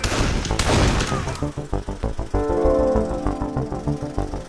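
Video game World War I rifle fire, including the Gewehr 98 bolt-action rifle, heard as a rapid string of loud sharp shots and booms with a crashing burst at the start, dense and punchy throughout.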